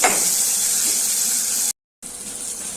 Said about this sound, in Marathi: कांदा आणि टोमॅटो लवकर भाजण्यासाठी मी ते मीठ टाकून भाजून घेते